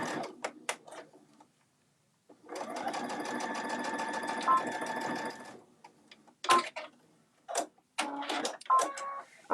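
Sewing machine stitching fabric for a bag, with a steady mechanical whirring run of several seconds, preceded and followed by softer clicks, handling sounds and brief stops.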